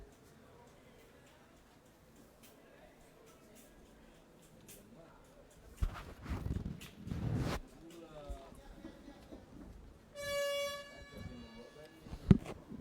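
A loud air horn blares for about two seconds, signalling the final play of a rugby match, amid crowd noise and commentary, followed by a sharp thud.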